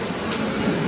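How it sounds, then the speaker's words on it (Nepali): A local train pulling into platform 4 at Krishnarajapuram railway station makes a brief, dense, close rumble of rolling wheels and carriages. "अब ट्रेन पनि आउन आँटेछ त"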